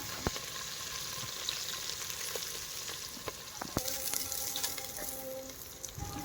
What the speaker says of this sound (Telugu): అల్లం వెల్లుల్లి పేస్ట్ కూడా వేసేసుకున్నా ఫ్రెండ్స్